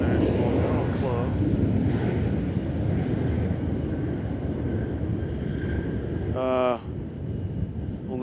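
An airliner at Nashville International Airport makes a steady, broad jet roar that holds throughout, with some wind rumble mixed in and a brief interruption near the end.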